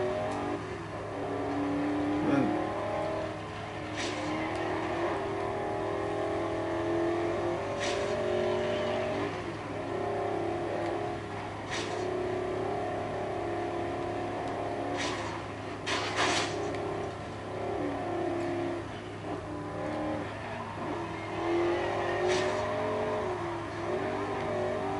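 Race cars in the video game Forza Horizon 2 rev and roar steadily on a final lap, a continuous engine drone with rising and falling pitch and occasional sharp bursts, loud and sustained with no talk.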